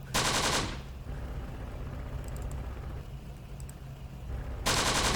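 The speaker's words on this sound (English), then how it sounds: "Machine guns can keep on firing," Machine gun fire in the Close Combat video game, with loud bursts at the start and end and a quieter rumbling battlefield stretch in between.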